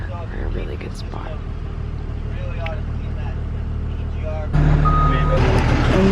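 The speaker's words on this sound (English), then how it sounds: "Do you hear the idle? It's idling." A school bus engine idles with a loud, steady low rumble close by, and a tonal beeping joins in during the last couple of seconds.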